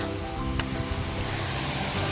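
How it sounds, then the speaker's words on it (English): A constant, loud broadband rush of falling water fills the space, steady and close, with no pauses. "Another waterfall!"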